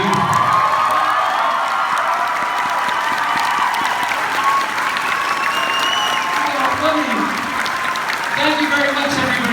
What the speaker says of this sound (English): A big round of applause for our signers